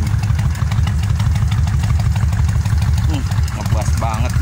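A Kawasaki Vulcan 1500 motorcycle idles with a deep, bassy exhaust, throbbing in a steady low pulse close by while someone talks over it.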